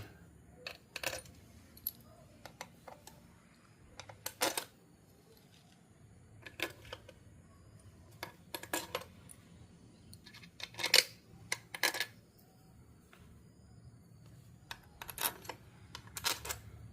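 Bolts being set into a Honda CBR motorcycle engine that had run short of oil during its rebuild: scattered sharp metallic clinks and taps, close by, coming in small irregular clusters with quiet gaps between them and no talking.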